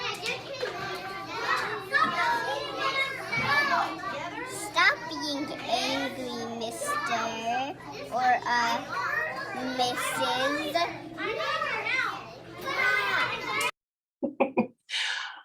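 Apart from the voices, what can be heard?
children playing and talking in background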